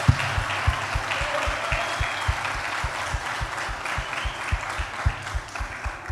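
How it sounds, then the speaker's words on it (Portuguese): A church congregation claps during a service, a steady mass of applause with a rhythmic beat of low thumps running underneath, moderately loud and without speech. "acho que Jesus recebe uma salva de palmas pela vida desse casal"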